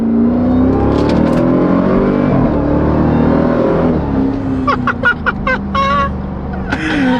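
A stock supercharged Jeep Grand Cherokee Trackhawk engine roaring loudly under full-throttle acceleration with a rising supercharger whine, heard from inside the vehicle, followed by sharp crackles and pops as the throttle eases.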